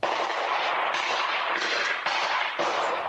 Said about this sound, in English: A Ring camera on a home nearby captured the sound of the gunshots